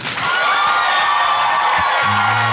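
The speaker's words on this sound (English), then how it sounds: "So when I point, that's when you clap." Live podcast audience at Club Downunder clapping and cheering on cue for Jim O'Heir's show, a dense, loud wash of applause and whoops that fills the whole stretch, with a steady low hum entering near the end.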